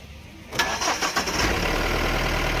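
A car engine with a stuck accelerator cranks and catches, then settles into a loud, steady high idle that keeps running without easing down.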